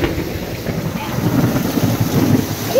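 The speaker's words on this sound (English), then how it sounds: "Look at this, it is pouring rain out here." Heavy rain pours steadily outdoors, a loud, dense, continuous roar with low rumbling throughout, and no pauses.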